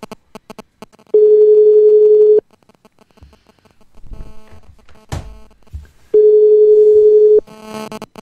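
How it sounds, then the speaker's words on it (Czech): Telephone dial tone heard while placing a call to a radio studio guest, two steady loud tone bursts of about a second each separated by quiet dialing clicks and handling noise. "Tak, už budu volat."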